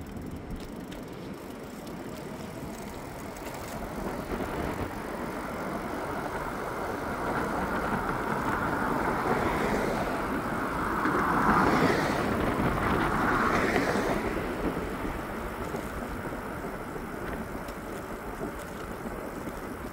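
An R48 electric bicycle climbs a hill on throttle alone, its motor whining steadily with a faint rising tone in the middle, against road and wind noise and no talking.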